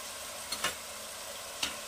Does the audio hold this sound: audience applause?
no